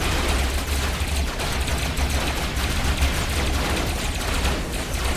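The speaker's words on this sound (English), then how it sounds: "Just open fire!" Gunfire in a RoboCraft battle: a dense, continuous barrage of rapid shots and rumbling blasts, loud and unbroken throughout, with no voices over it.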